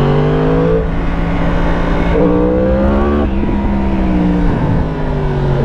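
A 2017 Yamaha YZF-R1 motorcycle engine pulls hard under acceleration, a loud, continuous roar whose pitch climbs and dips at several gear changes, with steady wind rush underneath.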